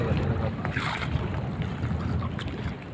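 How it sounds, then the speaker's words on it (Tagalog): Strong wind at sea buffeting near a fishing boat, a continuous loud roaring rush of wind noise with water wash, steady throughout, with faint voices underneath. "Yan yung hangin natin"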